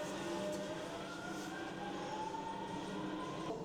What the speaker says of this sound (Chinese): 我们现在要去体验模拟驾驶地铁了